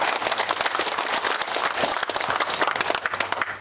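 An academic conference audience gives a lecturer a big round of applause, a dense, loud wash of many hands clapping that holds steady from start to finish with no talk over it.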